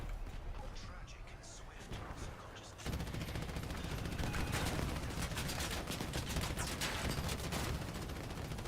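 Dense, continuous gunfire in a shooter video game, rapid overlapping shots that jump louder after a quieter opening and keep going without a break.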